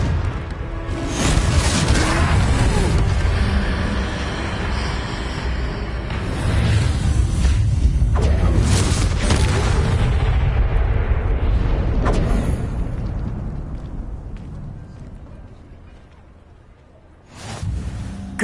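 Booming Confringo spell blasts in Hogwarts Legacy, a sustained roar of explosions and rumbling debris during a troll fight that fades into a lull before another sudden burst at the end.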